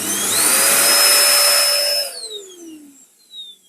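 An Electrolux Powerlite Z3319 1800 W vacuum cleaner runs loud and steady with a high whine, then switches off, its pitch gliding down as the motor winds to a stop, with no voices.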